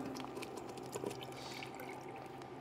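Canned tomato juice poured into a hot, bubbling soup pot with roasted garlic, a continuous liquid splashing and gurgling that runs steadily throughout at moderate level.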